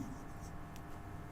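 Marker or chalk scratches briefly across a board during a maths lesson, a soft close scraping with a voice speaking faintly behind it.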